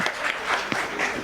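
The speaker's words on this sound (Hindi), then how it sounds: "तालियां हो जाएं।" Audience applause at a youth festival radio quiz in Lucknow after a correct answer, a brief burst of dense clapping that stays steady throughout.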